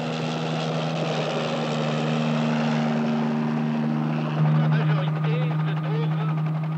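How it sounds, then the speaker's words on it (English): A helicopter lifts off the helipad of the research ship Calypso in Antarctic seas. It gives a steady droning rotor and engine hum with a shift in pitch as it rises, heard under a narrator's voice. "Captain Cousteau lifts off Calypso's helicopter pad"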